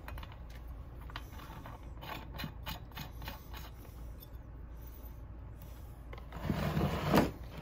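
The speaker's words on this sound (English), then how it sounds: "Just gonna go ahead and drop this spark plug off in here" A spark plug is threaded into a Husqvarna 371 XP chainsaw during reassembly, making faint, quiet ratcheting clicks and small metallic taps, with a louder clatter near the end.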